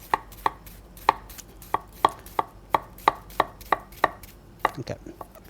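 Knife chopping an onion on a chopping board, a steady series of crisp, close taps at a regular rhythm, clean and unaccompanied by speech.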